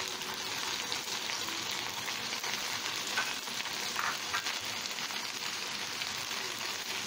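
Okra frying in a pan, a continuous dense sizzle of oil crackling steadily and evenly throughout, close and moderately loud with no talk.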